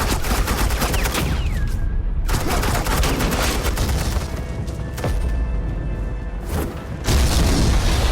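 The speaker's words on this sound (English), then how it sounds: "suppressing fire." Rapid bursts of gunfire and booming impacts from suppressing fire in the video game Batman: The Enemy Within, loud and continuous with a short lull, no talk over it.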